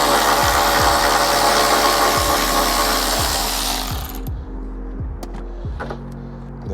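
A power tool loosens a seat belt bolt inside a 2012 Porsche 911 Carrera, a loud continuous whine for about four seconds with repeated ratcheting pulses, then a quieter tail.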